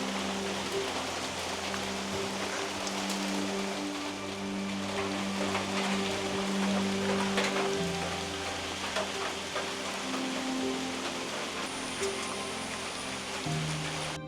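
Steady monsoon rain falling in a Western Ghats forest in Karnataka, a dense hiss of drops on leaves and surfaces, constant and enveloping with no talk.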